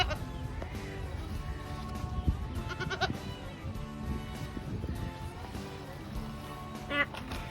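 Several goats bleat nearby in short wavering cries, overlapping with people talking in the background.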